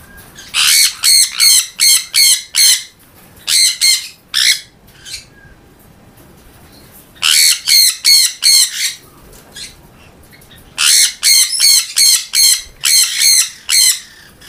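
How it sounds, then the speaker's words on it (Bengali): A caged pet bird being hand-fed gives loud, close bursts of rapid harsh squawks, clustered in rhythmic runs of five to eight calls separated by short quiet gaps. "দেখুন, পাখিটা ফিডিং নিচ্ছে বা মোটামুটি অ্যাক্টিভ রয়েছে"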